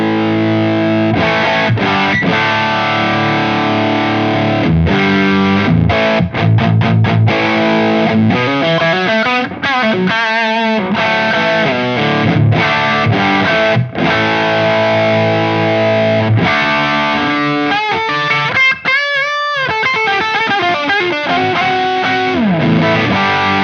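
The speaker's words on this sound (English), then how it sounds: "the character of the distortion reminds me a little bit of a rat" An electric guitar runs through a Wampler Mofetta distortion pedal at high gain, with thick saturated chords and choppy riffs, some fast flurries of notes and brief stops, loud and continuous with no talking.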